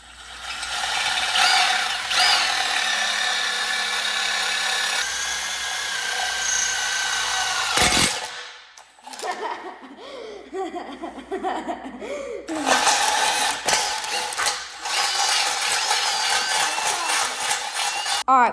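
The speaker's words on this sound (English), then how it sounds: "I'm gonna drill this now" A handheld power drill bores a hole in a minibike part being readied for powder coating. It whines steadily, cuts out briefly with some rattling, then runs again close up.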